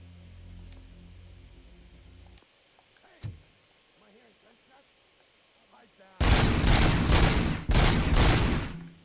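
Exploding bullets fire in the video game RoboCop: Rogue City, with a loud burst of rapid gunfire and blasts in the final few seconds after a quieter stretch holding a voice and faint game sounds.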